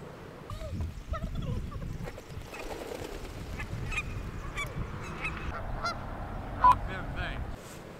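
Geese honk repeatedly over steady outdoor background noise beside icy ground, with calls scattered throughout at moderate distance.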